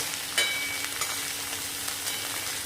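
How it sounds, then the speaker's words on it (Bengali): Chopped vegetables, including broccoli, stirred in a frying pan for vegetable rice with curry leaves, a steady soft sizzle with a light clink near the start and faint scraping, no talking. "এবার একসাথে সুন্দর করে কিছুক্ষণ নাড়াচাড়া করব সবজিগুলোকে"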